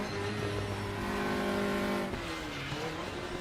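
Engine note of a race car in a sim racing game, loud and continuous, holding a steady tone before the pitch sags and shifts as the car slides through a corner.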